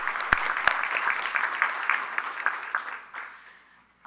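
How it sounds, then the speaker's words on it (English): Applause at a San Bruno city council meeting during an awards segment, a dense patter of many hands clapping steadily, then thinning and fading out toward the end. "But we can give them a hand of applause anyway."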